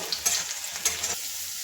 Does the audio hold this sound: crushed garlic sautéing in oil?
yes